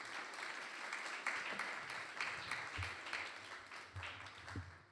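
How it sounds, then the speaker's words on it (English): Applause from an audience after a talk on the sweet pastimes of the Lord, a steady wash of clapping at moderate level through the whole stretch, somewhat distant and even. "Let's have a round of applause for Ramajit Prabhu."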